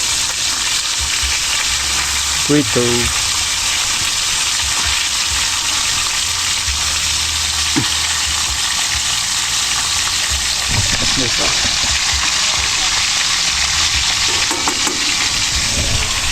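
Loud, constant sizzling of food frying in hot oil, a bright crackling hiss throughout with occasional clatter and brief voices underneath.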